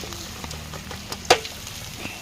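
Chicken kondattam frying in a pan while being stirred, a low continuous sizzle with soft stirring scrapes and one sharp clack of the utensil against the pan.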